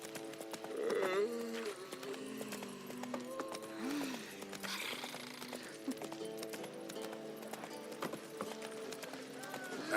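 Horse hoofbeats clip-clop steadily at close range in The Witcher 3 video game, with a brief neigh early on, a game soundtrack underneath and voices talking over the hooves.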